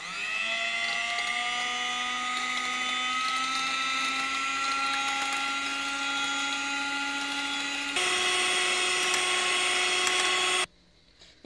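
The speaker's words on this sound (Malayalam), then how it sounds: "ഞാനിപ്പോ ആ മുട്ട അത്രയും ബീറ്റ് ചെയ്ത് എടുത്തിട്ടുണ്ട്." An electric beater whips eggs for a Black Forest cake batter, a steady close motor whine with a strong harmonic drone that shifts pitch slightly partway through before cutting off near the end.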